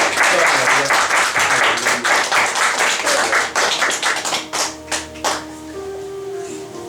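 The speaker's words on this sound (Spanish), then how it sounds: "Den un aplauso al Señor" Church congregation clapping in a loud, rhythmic burst of distinct claps that gradually slows and fades, giving way to a sustained musical tone and a voice at the end.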